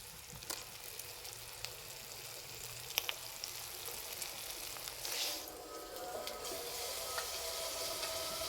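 Chicken pieces sizzling as they are added to spiced oil for a red chicken curry, a steady close frying crackle with a few sharp pops and a brief louder surge midway, no voices.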